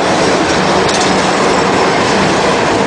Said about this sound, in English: Check out these trams